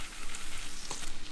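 Thick coconut jaggery syrup bubbling and sizzling steadily in a hot pan, a dense crackling hiss with small pops, close and fairly loud, no voices.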